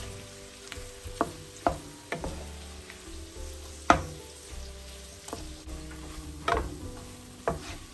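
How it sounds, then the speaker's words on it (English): Gizzards coated in tomato paste stir-fry in a pan, a steady close sizzle broken by repeated sharp scrapes and knocks of a spoon at an uneven rhythm. "you're going to keep stir frying your gizzards"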